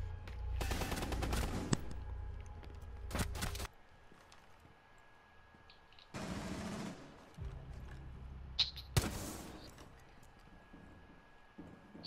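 Bursts of gunfire in Rainbow Six Siege, with broadband crackling volleys near the start and two more sharp loud bursts later, separated by quieter stretches of game ambience.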